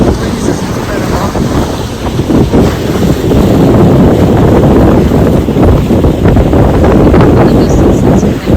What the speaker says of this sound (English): All these sailboats out here. The breeze is incredible.